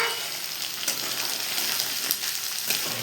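Rice and peanuts frying in a pan produce a quiet, steady sizzle with a few faint crackles and stirring scrapes scattered through it.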